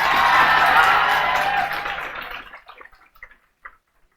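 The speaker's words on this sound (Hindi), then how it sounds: "एक बार इन लोगों के मेहनत के लिए जो है जोर से ताली" An audience in a geography class claps loudly all together. The applause holds steady, then fades away over about two seconds, leaving a few scattered final claps.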